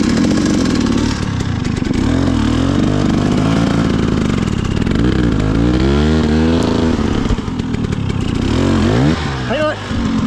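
A dirt motorcycle on a SoCal trail labours up a rutted climb in a tall first gear, its engine loud and close, revving hard in rising and falling surges with clattering, while voices talk over it.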